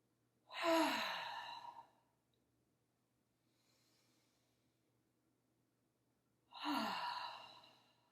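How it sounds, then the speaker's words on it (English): Two slow, deep breaths during a yoga session, each a broad, airy sigh about a second long, separated by a quiet pause with faint background; no talking. "Let's just take some deep breaths as we get started here."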